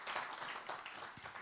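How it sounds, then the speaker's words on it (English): Audience applause at a strategic partnership review meeting on raw materials, a short burst of scattered hand clapping, faint and brief, with no speech over it. "Please give them all a round, and yourself a round of applause."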